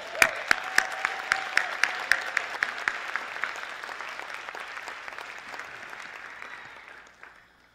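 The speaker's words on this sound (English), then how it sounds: "also extend a personal thanks and a real big round of applause for Cohort 3." A conference audience at a performing arts plenary applauds. A few sharp, evenly spaced claps lead into a broad wash of clapping that slowly fades out, while a faint tone sounds underneath at the start.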